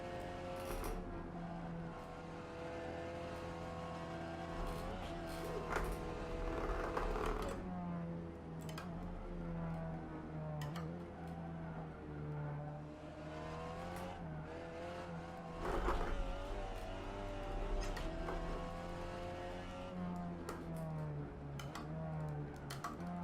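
A Seat Leon TCR touring car in the Assetto Corsa racing game at Paul Ricard, its engine droning steadily and rising and falling through gear changes as it laps, loud and continuous with no voices over it.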